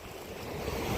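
Steady wind roars against the microphone by the sea, a broad continuous rush that swells slightly louder toward the end.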